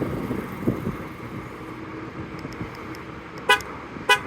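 A 2024 Ford Mustang GT Premium chirps its horn twice as it locks by remote. The two short, bright toots come near the end, after a quiet stretch of low outdoor rumble.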